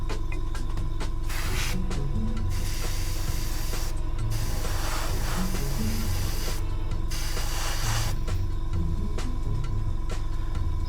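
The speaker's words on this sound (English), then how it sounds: "I apologise for the noise. My airbrush's compressor can be kind of loud." Steady hiss of an airbrush spraying over a constant compressor hum, with the spray cutting in and out in short bursts.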